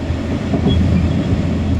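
A passenger train crossing from Austria into Slovenia rumbles steadily from inside, a loud continuous roar with faint rail clatter and no voices.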